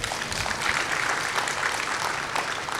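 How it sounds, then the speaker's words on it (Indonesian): A church congregation applauds during a sermon. The clapping is steady and dense, a broad wash from many hands that holds for the whole stretch without a break. "saudara itu kalau diberkati tepuk tangan ya, kayaknya seneng ya"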